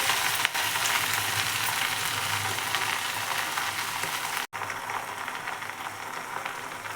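Gongura leaves sizzle in hot oil in a pan for Andhra-style chutney, a steady dense crackle with a brief break in the middle before the frying resumes, close and loud with no voices.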